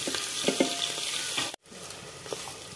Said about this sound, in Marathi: कांदा चांगला लालसर आपण असा परतून घेणार आहोत, कलर चेंज होईपर्यंत आपण परतणार आहोत